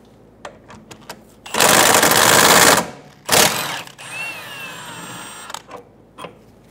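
A power tool loosens the rear shock absorber bolt with an 18 mm socket on a 2012-2020 Chevrolet Sonic, giving two loud, close, buzzing bursts, a long one and then a shorter one, separated by scattered clanks.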